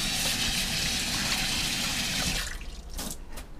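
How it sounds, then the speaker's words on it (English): Running tap water splashes loudly over a hand being rinsed at a kitchen sink, then cuts off into a few softer drips and splashes. "I'm going to rinse off my hand."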